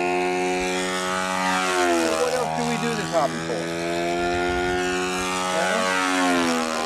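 A Critical Mass model aerobatic airplane flies overhead, its loud sustained engine drone shifting pitch as it passes, with a person talking over it.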